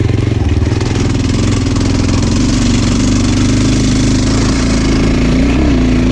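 172fmm motorcycle engine, ported, pulling in fifth gear on a road, a loud close steady drone with a rough pulsing beat that holds even throughout, no talk over it.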